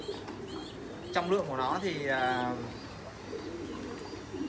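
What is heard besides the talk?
American giant pigeon cooing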